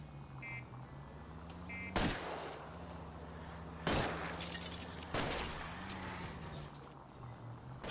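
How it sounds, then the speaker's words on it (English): Three sharp, widely spaced gunshots in the video game L.A. Noire, cracking loudly over a steady low vehicle engine drone. "At least this guy's shooting."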